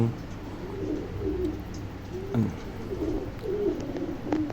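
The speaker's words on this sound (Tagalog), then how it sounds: "So, ito yung mga ibon natin." Soft, repeated cooing of racing pigeons close by, several low warbling calls over a quiet background.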